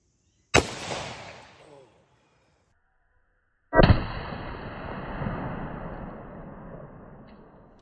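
Two sharp 9mm gunshots from a Scorpion with a 7 3/4-inch barrel, fired into ballistic gel about three seconds apart, each a sudden loud crack followed by a lingering outdoor echo that slowly fades.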